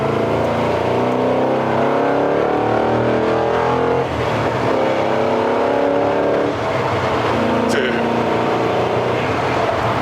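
A 1972 Chevrolet C10 pro-touring truck accelerates at part throttle, its engine a loud, close, rising drone with strong harmonic rumble that dips briefly midway, heard from inside the cab while people talk over it.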